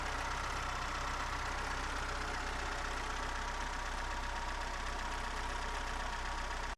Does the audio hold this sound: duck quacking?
no